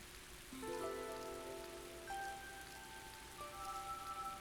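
Steady rain in the video game Tales of Graces F, a soft continuous hiss that runs throughout beneath sustained melodic music tones.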